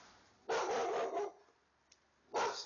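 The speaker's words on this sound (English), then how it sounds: "Him barking." A dog barks in a backyard, two loud close barks separated by a short pause, with no talking.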